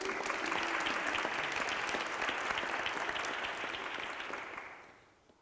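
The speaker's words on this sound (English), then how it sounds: "If we could give him a round of applause, please." Audience applause at a masterclass event greeting a speaker as he comes onstage: dense, steady clapping from a sizable crowd that holds for several seconds, then fades out near the end.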